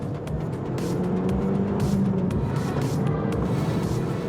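A car engine pulls steadily up through the revs in second gear under acceleration, a smooth, continuous and fairly close drone with no breaks, alone without talk.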